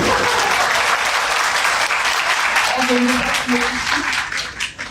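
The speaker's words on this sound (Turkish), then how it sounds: "Şimdi alkışlayabiliriz." Sustained audience applause at a Turkish training seminar, dense and steady clapping filling the room throughout, with faint voices briefly heard under it near the end.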